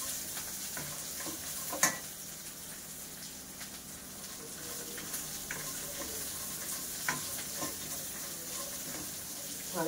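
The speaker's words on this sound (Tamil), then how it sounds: "அதையும் இதில் போட்டு வதக்கிக்கலாம்" Chopped ingredients being sautéed in a pan for a coriander and peanut chutney, a faint, even sizzle with light scraping stirs and a single louder clink near the start.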